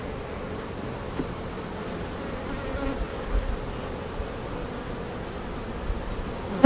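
Honeybees buzz in a steady, dense drone as frames are lifted during a routine inspection of a backyard beehive, the hum continuous and fairly close with no speech over it.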